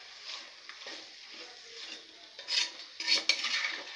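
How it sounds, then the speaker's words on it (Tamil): Mutton sautéing with onion and tomato in a pan: faint sizzling with soft scraping and stirring clinks from a utensil, growing slightly busier toward the end. "ரெண்டாவது கறியை போட்டு வதக்குறோம்"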